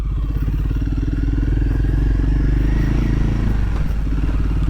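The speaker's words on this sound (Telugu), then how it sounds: "so second gear just clutch వదిలేసాను, ఈజీగా పోతుంది" A Royal Enfield Himalayan 450 motorcycle riding in second gear on a soft road, its engine a steady, loud, close thrum with a slight lift near the end, no voices over it.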